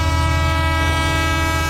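A train rolls through a railway crossing with the gate closed, its horn blaring steadily and loudly over the deep rumble of the cars for the whole stretch, with no one talking.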